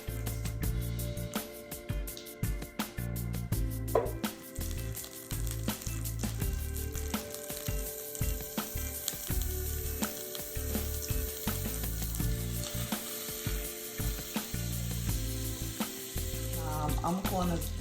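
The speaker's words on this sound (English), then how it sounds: "Add a little olive oil to your hot skillet. A little bit of butter." Steak sizzles in olive oil and butter in a hot skillet, a steady dense frying hiss with irregular clunks and scrapes of handling throughout, close and fairly loud with no talk.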